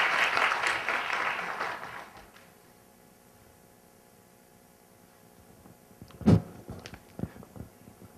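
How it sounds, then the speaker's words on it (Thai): Audience applause greets a guest speaker, the chief executive of Sampran Riverside, as she takes the stage at a seminar session. The clapping is fairly loud for about two seconds, then fades out, followed by a quiet room and a few scattered knocks. "ขอเสียงปรบมือต้อนรับท่านด้วยครับผม"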